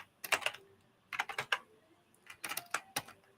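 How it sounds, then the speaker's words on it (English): Someone types on a computer keyboard in three quick bursts of close, crisp key clicks separated by short pauses, with no talking. "I'm just typing this out before we get off."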